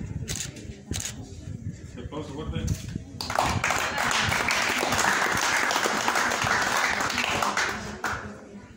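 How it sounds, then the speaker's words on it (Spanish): Audience applause swells at a painting contest award ceremony, starting sparse with a few claps and talk, then building to steady dense clapping from a mid-sized crowd that holds until near the end. "Fuerte el aplauso, felicidades a esta categoría también"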